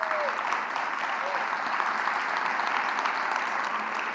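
A theatre audience at a season presentation claps steadily and densely throughout, a sustained wash of applause with a brief voice at the start.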